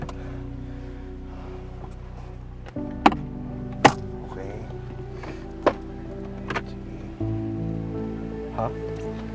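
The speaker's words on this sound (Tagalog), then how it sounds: "Sumabay pa talaga tong ulan." Steady rain pours down in a continuous hiss, broken by a few sharp knocks and thuds, with a low hum underneath and no voices.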